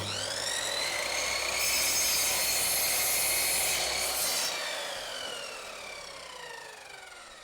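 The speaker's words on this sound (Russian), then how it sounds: "Поэтому теперь я разворачиваю доску и так же само буду отпиливать." A hand saw cuts through a wooden board in continuous rasping strokes, close and fairly loud, gradually easing off toward the end.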